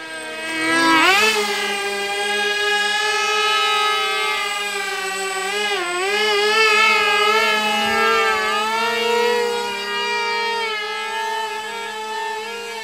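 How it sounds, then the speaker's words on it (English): Model aircraft electric motors running with differential thrust, a loud steady whine with many harmonics whose pitch bends up and down as the motors speed up and slow, continuous and close, with no talking. "You can hear the diff thrust."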